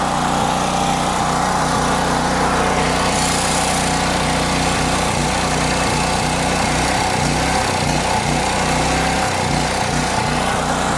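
A small portable generator engine runs close and loud, its idle rising and falling unevenly as it hunts for a steady speed, with irregular surges through the low rumble.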